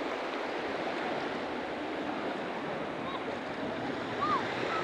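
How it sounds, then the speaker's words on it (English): Ocean surf rolls and breaks steadily along the shore at Indian Rocks Beach, a continuous broad wash with wind buffeting the microphone, no voices present. "the waves are hitting your detector"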